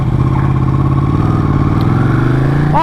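A Ducati Panigale motorcycle being ridden: a loud, steady engine drone with a continuous low rumble, close and uninterrupted, with a brief rising whine at the very end and no talk.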